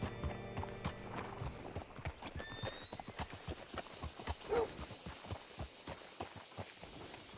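Horse hooves in Red Dead Redemption 2 clop in a steady walking rhythm, close and fairly soft, with a brief whinny midway.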